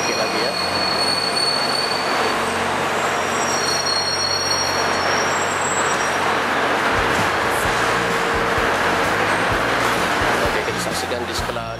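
A light rail train rumbles through a Kelana Jaya line LRT station with squealing wheels and rhythmic clacking, loud and close, steady throughout.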